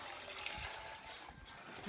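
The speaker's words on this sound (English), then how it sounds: "I'll just go ahead now and add the extra water" Water poured steadily into a jug already holding ice in a home kitchen, a continuous close trickling splash with no talking.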